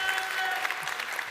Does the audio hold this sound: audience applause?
yes